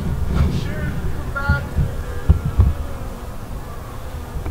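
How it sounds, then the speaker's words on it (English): Honey bees buzz close by in a fluctuating, whining drone, with a few louder passes near the microphone, while people talk over the insects. "then the worker bees come out, get the pollens and bring it back so they can make the babies and the honeys"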